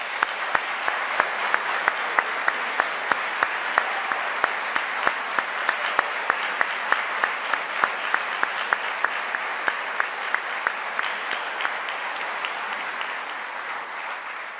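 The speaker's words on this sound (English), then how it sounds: "I invite your family and friends to applaud what you've achieved." Family and friends at a university medical school graduation ceremony applaud the graduates in a long, steady wash of clapping from a large crowd, sustained and even with distinct nearer claps standing out.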